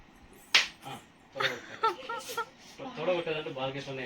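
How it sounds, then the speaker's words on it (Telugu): A single sharp finger snap cracks out near the start as a playful warning at home, followed by people talking and laughing. "చిటికేసి వార్నింగ్."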